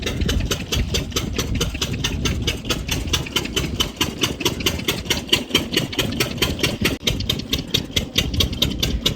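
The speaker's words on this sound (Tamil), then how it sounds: "இப்போ நம்ம அந்த இன்ஜின் ஓடிட்டு இருக்குது." An engine idles beside Bhavanisagar dam with a fast, even mechanical chugging, a steady throbbing knock that stays loud and close throughout, with no voices.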